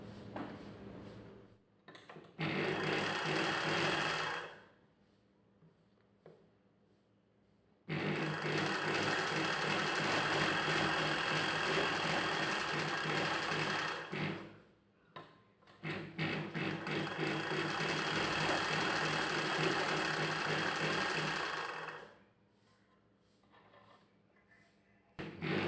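A sewing machine stitches the side joint of a kids' pattu pavadai in three sustained runs of fast, loud stitching separated by quiet pauses with light handling sounds, close up and without talk.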